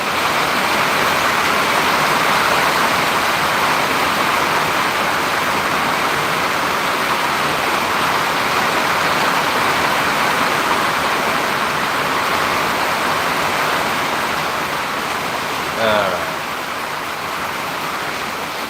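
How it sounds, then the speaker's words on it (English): Heavy rain pouring down loudly, a dense, steady roaring hiss that fills the whole stretch without a break, with only a slight bump in level near the end and no voices. "I don't know if I can do this with this rain."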